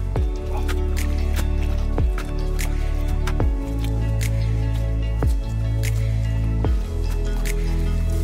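Wet leaves scooped by hand out of a backyard pond: wet squishing and dripping water recur every second or so, up close over a steady background of running water.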